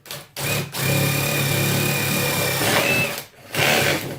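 A power drill bores bolt holes for a homemade Sterno stove in two bursts: a long steady whine, a short pause, then a second shorter run.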